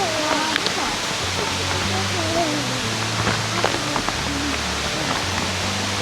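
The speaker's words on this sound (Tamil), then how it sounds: "நம்ம ஃபால்ஸ் விழுத பார்க்கலாம்." A waterfall on a Seychelles island pours with a steady, broadband rush of falling water that holds constant throughout, with voices talking faintly over it.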